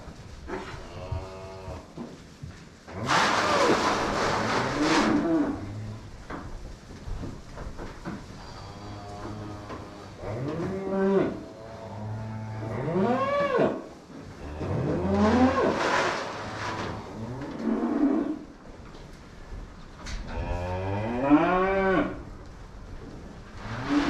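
Big Angus steers mooing repeatedly as they wait to be fed, with several loud, drawn-out bellows from close and farther animals amid quieter farmyard noise.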